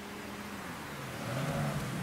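Car speeding up in the video game Mafia III, a steady engine drone that swells and rises in pitch near the end, heard alone without talk.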